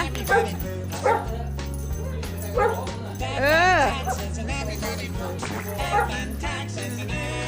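A dog barks and yips in short repeated bursts throughout, under and between steady conversational talk and a persistent low background hum.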